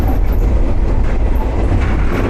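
The Ibusuki no Tamatebako train in Kyushu, Japan, heard from inside the carriage while running on rails: a loud, steady rumble of wheels and track with faint rhythmic clatter.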